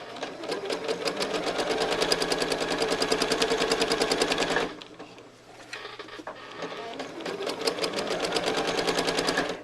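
A sewing machine stitches a quilt in rapid, even bursts of needle clatter, running for a few seconds, pausing briefly, then resuming at the same brisk pace.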